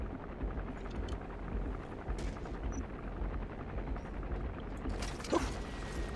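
Helicopter gunship in Metal Gear Solid V, a fairly faint steady rotor chop with rapid pulsing and a few sharp bangs over the top.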